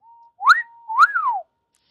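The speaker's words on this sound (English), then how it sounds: "Henry blew his whistle" Steam engine whistle of Henry from Thomas & Friends: two bright rising-and-falling whistle blasts, loud and close, standing alone against silence after a faint steady tone.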